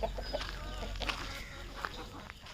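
Several hens cluck and chatter close by, short overlapping calls over a low steady background hum.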